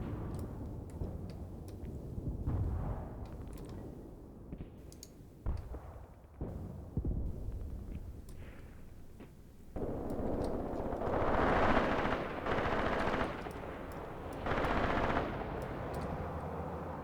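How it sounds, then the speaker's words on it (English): Mortar shells burst in the Graviteam Tactics war game, heard as rumbling distant explosions and crackling impacts over steady battle noise, growing heavier and denser in the second half. "My mortars are landing back there,"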